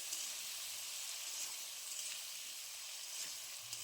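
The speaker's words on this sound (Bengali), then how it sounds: "আলুটা খুব ভালো করে কষিয়ে নেব।" Potatoes with salt and turmeric fry in a pan for a vegetarian soybean dish, giving a soft, steady, even sizzle with no voices.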